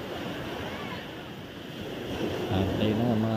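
Sea waves and wind on a tropical shore roar steadily and close, with a continuous wash of surf and wind noise on the microphone, and a voice speaking over it toward the end.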